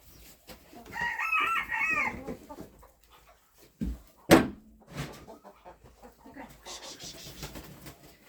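Bantam roosters and hens in a poultry yard: a rooster crows once early on, followed by a sharp loud squawk and scattered clucking, with quiet gaps between sounds.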